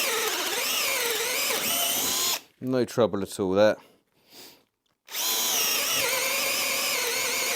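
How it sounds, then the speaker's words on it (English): A Bosch FlexiClick cordless drill on speed 2 whirs steadily as its 10mm wood bit bores into wood, stops for a short spoken remark, then starts up again at full speed. "This is a 10mm wood drill bit."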